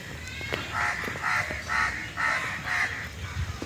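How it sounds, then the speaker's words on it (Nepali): A crow caws in a series of about five harsh, evenly spaced calls, moderately near, over low outdoor background noise at a temple site in Chitwan. "यो चाहिँ काग हो।"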